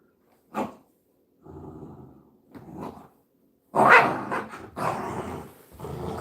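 A small 17-pound dog growls low in short bursts, then breaks into louder snorting barks and rumbling growls at close range, with pauses between outbursts.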